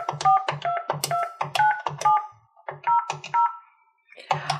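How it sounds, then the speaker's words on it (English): Touch-tone DTMF beeps from an ESI ePhone4 desk phone as a phone number is keyed in, a quick run of short clear tones in an uneven rhythm with a brief pause midway, close and alone. "I'm going to press pound after I enter the phone number so that it sends the digits straight through"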